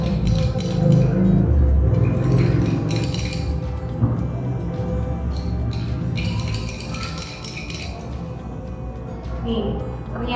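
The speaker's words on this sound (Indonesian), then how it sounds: "Kita aduk." Paracetamol is stirred in water in a glass, with light clinks of the stirrer against the glass spread through the passage while a person talks over it.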